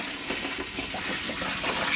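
Water runs from the hand basin tap in a Chausson Welcome 75 caravan, a steady close hiss and splash that carries on without a break and with no voices.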